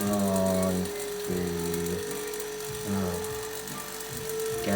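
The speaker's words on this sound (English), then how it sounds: "you can hear the turbo pump is speeding up" A turbo pump on a JEOL JSM-5600LV scanning electron microscope spins up during a rebuild, giving a steady machine whine with rising tonal lines and recurring mechanical rumbling pulses, fairly loud and without speech.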